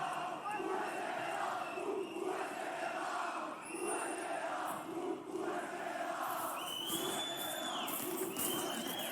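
A large crowd in an esports arena at a League of Legends international tournament match, cheering and roaring loudly in continuous rising swells, with faint commentary beneath.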